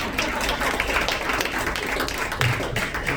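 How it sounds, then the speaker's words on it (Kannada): Applause from an audience at a stage event, a steady dense patter of many hands clapping hard and filling the space without pause, with no voices clearly heard over it. "ಜೋರಿಗೂ ಚಪ್ಪಾಳೆ ಹಾಕ್ಬೋದು."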